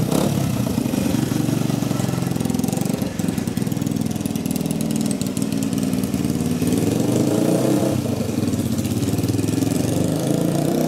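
A Honda 125 XLS motorcycle engine idles continuously after a restart, a steady close putter with slight unevenness and a brief blip partway through, with no talk over it.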